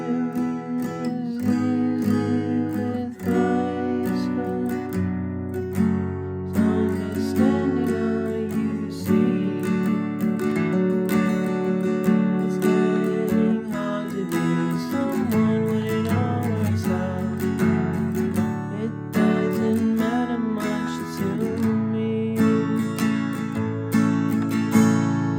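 An acoustic guitar strums the chord progression of a song, a steady run of ringing chord changes that fills the whole stretch, played alone and up close.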